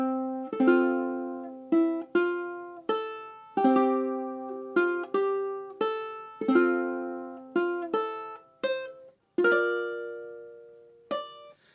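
Plucked ukulele Christmas chord melody, chords ringing out one at a time on the first beat of each measure in a steady, measured pattern, each strum decaying before the next, played alone with no voices.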